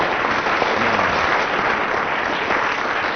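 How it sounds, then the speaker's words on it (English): A studio audience at a radio comedy panel show applauds, a loud, sustained and even roar of many hands clapping with no one talking over it. "let's have a round of applause for Tim Brooke-Taylor"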